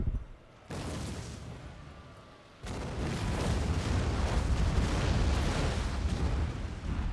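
Troops firing in a battle in Shogun 2: Total War, heard as dense, continuous rumbling gunfire and blasts that cut in abruptly and build to a loud, sustained roar.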